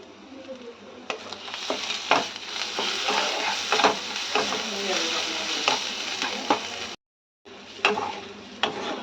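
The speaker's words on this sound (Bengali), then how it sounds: "মশলাটা কষিয়ে নেওয়া হয়ে গেছে।" A spice paste with chili paste, salt and turmeric fries in a pan, sizzling steadily while a spoon scrapes and stirs in irregular strokes; the sound cuts out briefly, then resumes.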